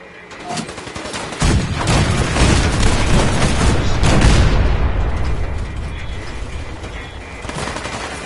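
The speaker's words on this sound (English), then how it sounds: "The cannons are ready. Fire at will." Cannons firing in the video game Fallout 4: a dense barrage of heavy booms and rapid shots, loud and close, building into a sustained roar of gunfire that slowly fades.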